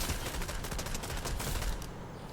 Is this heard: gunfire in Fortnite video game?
yes